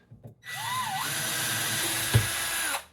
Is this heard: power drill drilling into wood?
yes